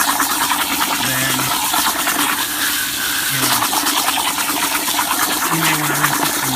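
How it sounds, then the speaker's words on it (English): Crystal reef sand getting a final rinse in water, a steady dense washing and sloshing that runs continuously at close range with no talk. "I'm just going to give it one good final rinse"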